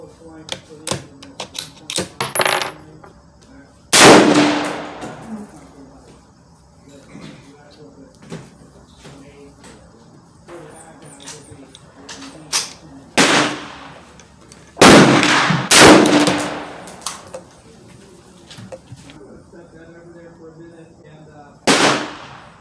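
A Savage 110 Tactical precision rifle with a Burris scope fires loud, sharp, echoing reports a few seconds apart, with quieter handling clicks and knocks in the pauses between shots.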